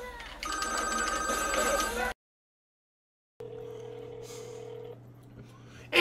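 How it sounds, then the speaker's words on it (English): A phone rings in an electronic warbling tone for about two seconds, goes silent, then a steadier ringtone returns at moderate volume. "Oh no, now the fucking phone's ringing!"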